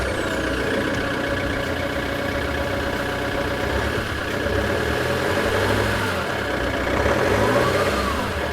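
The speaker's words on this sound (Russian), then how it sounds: "Сейчас проведем запуск двигателя непрогретого" A cold, unwarmed vehicle engine idling steadily at close range, a continuous low rumble with slight swells in revving, running alone without talk.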